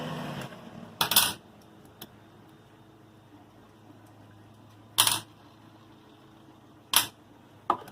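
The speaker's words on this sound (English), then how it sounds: "let me take the screws out" Metal screws being worked loose from the mount of an anchor winch on a Scout inflatable boat give a few sharp, bright clicks and clinks at spaced intervals, close by against a quiet background.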